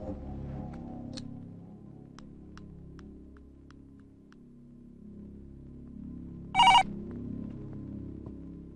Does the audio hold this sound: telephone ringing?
yes